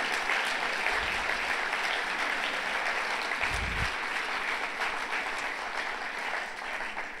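Applause from delegates at a PES Congress, a broad, continuous wash of clapping filling a large hall, steady and moderately distant, with a couple of low thumps partway through.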